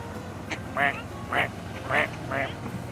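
A duck near the Toronto waterfront quacks four times at roughly even intervals, each call clear and moderately loud over a steady outdoor background hum.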